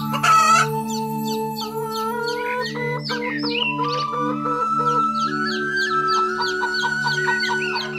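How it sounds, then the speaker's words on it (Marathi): A cartoon rooster crows at sunrise in an animated children's show, loud and close, its long cock-a-doodle-doo and clucks riding over a steady musical backing. "सूर्य उगवता घरच्या सगळ्यांना उठवी हा कोंबडा"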